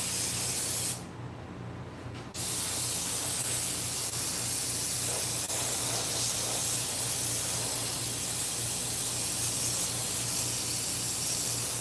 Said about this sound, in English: I don't spray any more than an inch in there then.